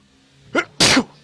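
A single sneeze, heard close and loud: a short sharp intake burst followed by a bigger explosive release, with quiet before and after.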